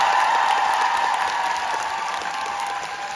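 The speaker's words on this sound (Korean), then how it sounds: "크게 박수 한번 부탁드리겠습니다." A concert audience applauds at an encore of a Korean singer's show with a band, a dense, steady wash of clapping that fades slightly toward the end.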